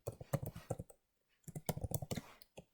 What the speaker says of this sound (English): use the tab key on your keyboard